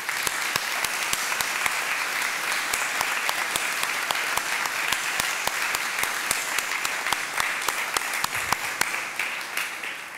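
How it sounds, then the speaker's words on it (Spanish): Sustained applause at an award ceremony, many hands clapping in a dense crackling wash with sharp individual claps standing out, steady and fairly loud throughout. "Le vamos a dar un aplauso a Manolito, a Villa, a Manuel."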